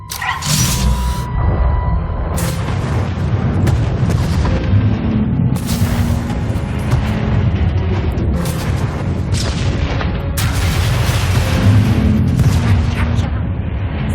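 Heavy weapon fire and explosions from a failsafe being triggered in Star Wars: The Old Republic, deep booming blasts rolling continuously with repeated bursts over a loud low rumble throughout.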